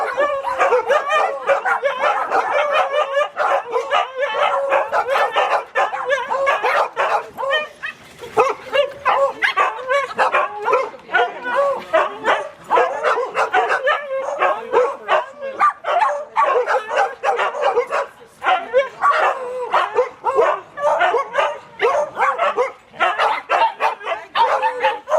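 Several dogs, a mixed group of pets and fosters, bark and yip in rapid overlapping bursts throughout, close and loud, with occasional whimpers.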